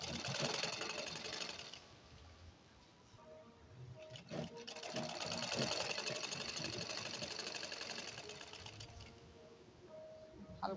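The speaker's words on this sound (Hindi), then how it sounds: "अब इसी प्रकार हमें चारों तरफ सिलाई लगा लेना है।" A sewing machine stitches a lined blouse in fast rattling runs, close and fairly loud, with a brief pause midway before the whirring stitching resumes.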